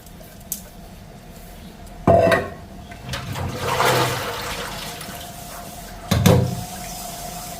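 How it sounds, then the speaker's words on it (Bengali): Running water splashes into a rice pot being washed in a sink, with two loud bursts of gushing water and clattering in between over a steady faucet hum; no one speaks. "এখন খালি ভাতের হাড়িটা ধুমু"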